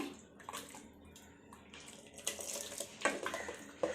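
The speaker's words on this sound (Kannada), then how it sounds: "ನಿಮಗೆ ಎಷ್ಟು ಗಟ್ಟಿ ಬೇಕೋ ಅಷ್ಟು ನೀರನ್ನು ಹಾಕ್ಕೋಬೇಕು." Water poured into a pot of horse gram sprout curry, a light splashing and trickling with clinks of a vessel, close and fairly soft, building toward the end.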